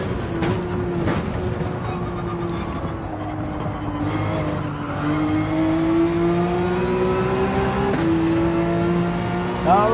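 Race car engine in Gran Turismo 7 on the Dragon Trail circuit, revs holding and rising through a long steady pull with a few sharp shift clicks, plus tire noise at the grip limit, loud and continuous.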